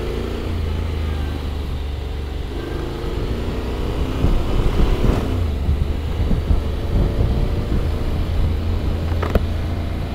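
A 2022 Honda X-ADV scooter, stripped of its travel pack, pulling away and riding off, its steady engine drone rising with speed under wind rush, close and continuous.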